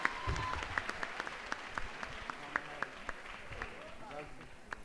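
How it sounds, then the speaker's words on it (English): A student audience at a school debate night applauds both teams, a moderate, fairly distant wash of clapping with a few sharper individual claps and some voices underneath. "Can we please give a round of applause to both teams?"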